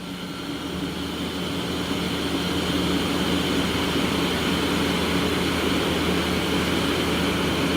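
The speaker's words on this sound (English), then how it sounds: "That's the spindle running at 350." The spindle of a 2013 Mazak Hyper Quadrex 450MY machining center runs at 350 rpm, producing a steady, droning mechanical hum with constant whirring that rises slightly at the start and then holds evenly, with no talking.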